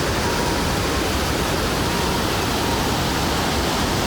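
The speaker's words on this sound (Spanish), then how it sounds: "esto es una caidita de agua" A small waterfall at Iguazú Falls pours in a steady, dense hiss of rushing water, loud, close and unbroken, with no voices.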